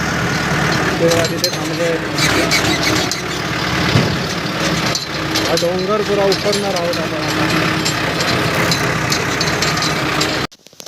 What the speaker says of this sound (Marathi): ट्रॅक्टर लावला आहे आपण भरायला.